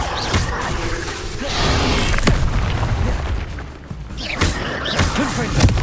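Bombarda blasting spell from the video game Hogwarts Legacy erupts in deep booming explosions with whooshing bursts, several heavy thuds spread across a continuous roar of battle noise.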